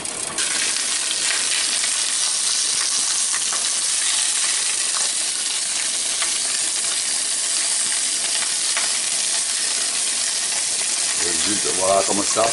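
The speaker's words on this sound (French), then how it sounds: "Donc on va les faire revenir avec une légère coloration blonde" Lemon chicken pieces sauté in a hot pan with a steady, dense sizzle and spattering hiss that holds evenly at close range for the whole stretch, with a faint voice surfacing near the end.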